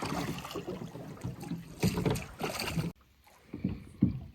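A wooden rowboat is rowed by a boatman, with broadband water and wind noise, irregular oar splashes and strokes that quiet partway through before a few closer sloshes return.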